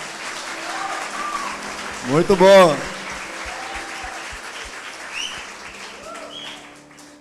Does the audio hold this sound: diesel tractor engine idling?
no